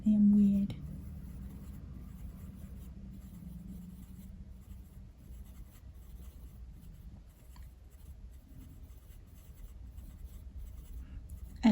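A pencil sketches on paper in a quiet room, giving faint, steady scratching strokes close up, with a brief louder knock at the start and end.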